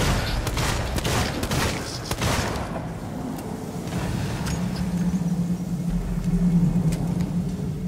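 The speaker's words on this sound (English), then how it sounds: "It's a turret. It's bullets." Turret firing bullets in the video game Alien: Isolation, a rapid burst of loud overlapping gunfire for about two seconds that gives way to a low rumbling background.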